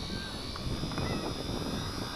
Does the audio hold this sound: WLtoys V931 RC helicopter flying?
yes